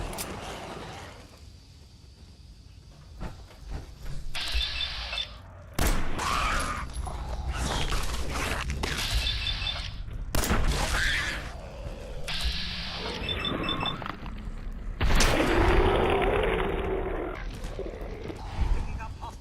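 Minigun fire in Fallout 4, heard as loud, dense bursts of rapid shots broken by short pauses, with grunts and other game sounds mixed in.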